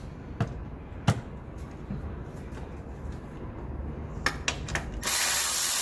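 Ratchet wrench clicking while loosening a 10mm nut on a wiring harness, a few sharp isolated clicks then a faster burst of ratcheting near the end, close and dry.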